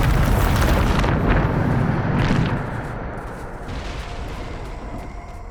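A Bombarda spell explosion in Hogwarts Legacy, heard as a loud, broad rumbling blast that swells over about two seconds, then tails off into a lower lingering roar.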